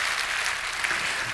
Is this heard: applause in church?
yes